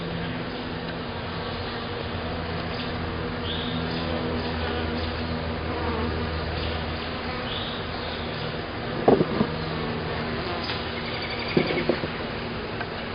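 Honey bees humming steadily around an open hive during an inspection outdoors, a faint continuous drone with a couple of brief knocks and clatters near the end.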